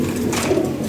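A short-bodied Lahori Siraji pigeon gives a brief, soft, low coo, heard close and alone over a steady background hum.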